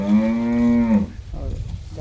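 A high-yielding dairy cow on a farm gives one loud, close, drawn-out moo lasting about a second, followed by quieter rustling farmyard noise.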